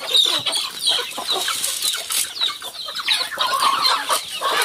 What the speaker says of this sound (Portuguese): Tanto de galinha, né?